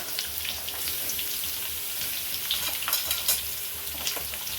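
Cucumber pieces go into a pan of avial, giving a steady close sizzle and frying crackle with scattered stirring scrapes and soft clatter throughout.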